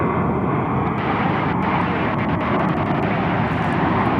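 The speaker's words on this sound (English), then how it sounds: "on final approach on runway 36 left. It's an Airbus" An Airbus A220 airliner on final approach to runway 36 left at DFW Airport, its engines a loud, steady broadband roar that stays constant and close throughout, with no voices.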